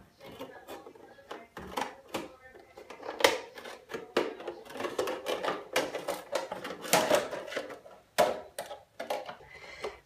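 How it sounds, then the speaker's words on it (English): A juice bottle is cut in half with a series of close, sharp snipping and crunching cuts, irregular in rhythm, with faint plastic crackles between them. "You're just going to cut the juice bottle in half."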